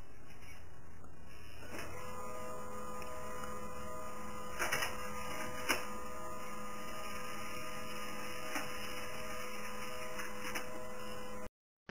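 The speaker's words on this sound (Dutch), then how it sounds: "En automatisch komt het documentje zo meteen uit de printer." A small laser printer prints a scanned document on a desktop setup, with a steady mechanical whir and hum, periodic clicks and thumps as paper feeds, ending abruptly; no one speaks.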